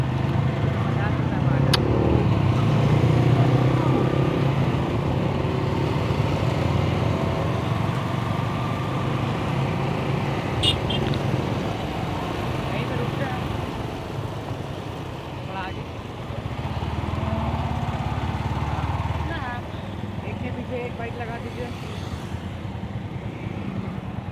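Yamaha R15 V4 motorcycle with no exhaust fitted, ridden toward a bridge along Patna Marine Drive in the evening, giving a loud, steady engine and wind roar throughout with little change in level.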